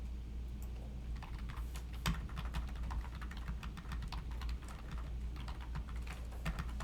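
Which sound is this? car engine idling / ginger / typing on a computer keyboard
typing on a computer keyboard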